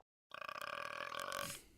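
A burp sound effect from the Grossology video game: after a brief silence, one loud, close, drawn-out rattling belch lasts over a second and then stops abruptly.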